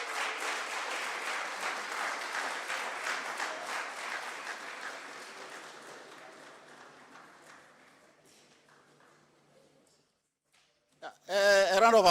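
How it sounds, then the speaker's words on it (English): Audience applause at an international conference, loud and dense at first, then steadily thinning and fading to near silence before a voice starts up at the end. "A round of applause for Commander."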